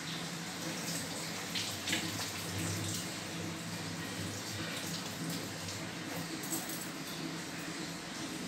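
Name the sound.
hands being washed under running water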